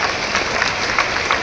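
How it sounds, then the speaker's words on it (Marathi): Brief, steady crowd applause at a temple event in Maharashtra, following a young percussionist's performance; a dense wash of clapping with no voices. "जोरदार टाळ्या"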